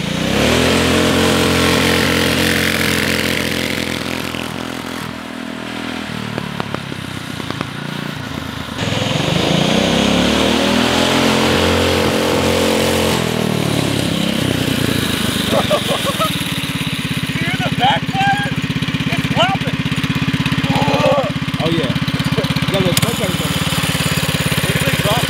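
A go-kart engine with a stage 1 kit and muffler revs loudly and continuously, its pitch rising and falling with throttle bursts, dipping briefly before roaring back up and holding a steady drone.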